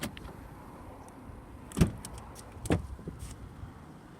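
A 2018 Mercedes-Benz E220d AMG Line saloon's keyless door handle being touched to lock and unlock, two sharp mechanical clunks of the locks about a second apart against quiet outdoor background.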